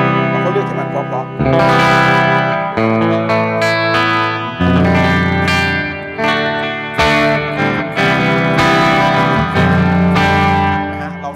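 A clean-toned electric guitar played through a reverb effect rings out in chords and single notes, each strike blooming into a wide, lingering tail, loud and up front.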